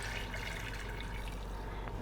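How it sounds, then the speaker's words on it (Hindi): A glass of water is poured steadily into a pan holding lumps of jaggery, giving a soft, continuous splashing rush at close range with no talk. "इसमें हम शामिल करेंगे 1 गिलास पानी"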